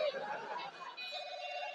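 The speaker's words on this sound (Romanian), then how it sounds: "Vezi că sună telefonul." An indoor telephone rings on a 2007 Romanian TV sitcom set, a steady electronic tone sounding under voices and chatter.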